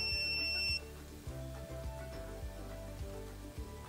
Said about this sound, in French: Je constate que ça bip, ce qui veut dire que j'ai une continuité quelque part.